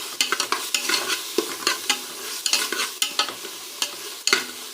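Coriander, curry leaves and chopped tomato are stirred and sautéed in a pan for egg biryani, giving a brisk run of scraping strokes over a soft, steady sizzle, close up with no voices.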